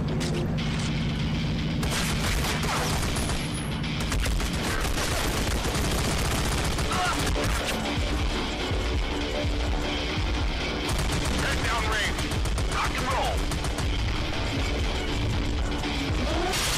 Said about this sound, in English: I'm being shot from behind